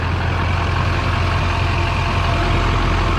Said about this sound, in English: You can definitely hear it sucking air in.